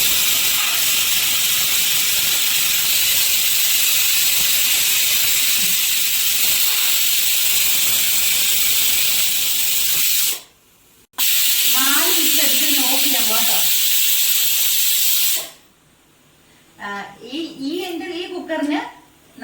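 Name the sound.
pressure cooker releasing steam, hissing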